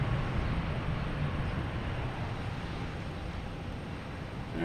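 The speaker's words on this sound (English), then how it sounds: "Insert thrust reversal sounds." An American 777 arriving from London Heathrow lands at Boston Logan Airport, its thrust reversers producing a steady, distant broadband roar that holds evenly without pauses.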